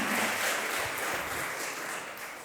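Applause for an award recipient on stage at a 2019 regional award ceremony in Eldoret: a dense, steady wash of clapping from an audience, loud throughout and fading slightly toward the end.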